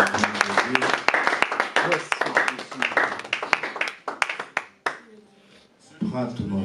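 Church congregation clapping together in a steady rhythmic pattern, loud and close, while voices sing or call over it. The clapping stops briefly near the end before voices resume.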